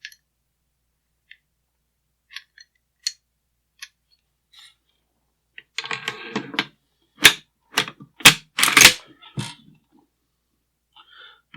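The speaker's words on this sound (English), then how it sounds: "Insert your recoil spring." Arsenal SAM7SF-84P AK-47 parts being reassembled as the recoil spring goes in: a run of sharp metallic clicks and clacks of steel parts, with a brief scraping rustle before several crisp, close snaps.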